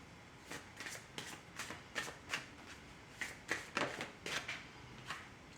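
Tarot cards are shuffled by hand in a quiet room, giving a series of soft, crisp riffling bursts in an irregular rhythm, close and faint.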